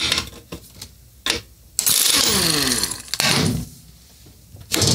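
A stuck wheel adjuster on a Troy-Bilt machine is forced round, with sharp metallic clicks and a grinding, ratcheting rasp of a couple of seconds, then a further burst of scraping, close and loud.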